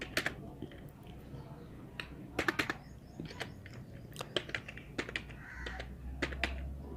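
Typing on a computer keyboard while writing in Microsoft Word: irregular clusters of quiet, crisp key clicks tapping at a casual pace against a soft room hum.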